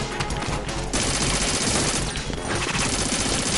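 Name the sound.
gunfire shooting out lights, from video game Metal Gear Solid 2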